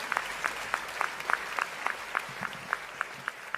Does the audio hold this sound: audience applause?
yes